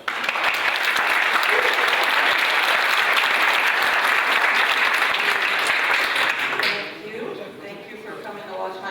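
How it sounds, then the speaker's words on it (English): A conference audience greets a speaker with loud, sustained applause that fills the room for about seven seconds, then fades into scattered claps and the speaker's voice. "So please, a huge round of applause."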